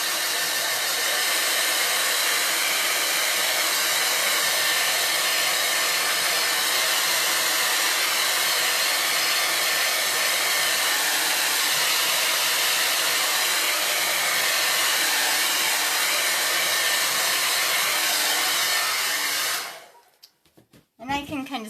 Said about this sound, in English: Blow dry this off.